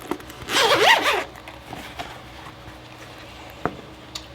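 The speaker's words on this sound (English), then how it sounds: "It's a zipper." A zipper on a Bose QuietComfort Ultra headphone case is pulled open in one quick, close rasping burst, followed by a couple of small handling clicks and taps.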